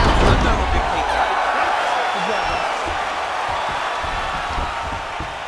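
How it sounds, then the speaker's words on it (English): A UFC arena crowd cheers and roars in appreciation after a round, a broad wash of voices and whoops that is loud at first and slowly eases off, with a commentator speaking over it. "So the crowd voicing its appreciation after that round."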